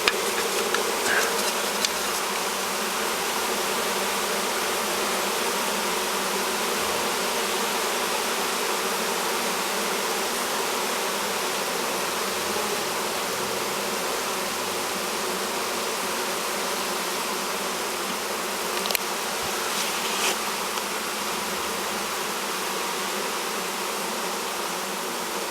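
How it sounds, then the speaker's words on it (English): A swarm of roughly four or five pounds of honeybees, caught from a colony with foulbrood, hums in a dense, steady drone that stays loud and unbroken throughout, with a few faint clicks and no voices. "I'm guessing there's 4 or 5 pounds of bees in this swarm."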